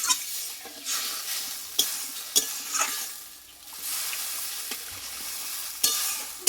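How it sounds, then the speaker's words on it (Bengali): Tengra fish curry broth in a pan, cooking with a steady bubbling hiss broken by occasional sharp scrapes and taps of a stirring spoon against the metal. "দেখো বন্ধুরা ঝোলটা কিন্তু ফুটতে লেগেছে"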